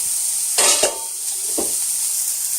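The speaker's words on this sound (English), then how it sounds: "I'm going to give them a grill. This is on high heat in my grill pan." Vegetables sear on a grill pan over high heat, a steady sizzle with a louder burst of spitting and scraping as pieces are laid down, then a softer hiss with a brief knock, all close and without talk.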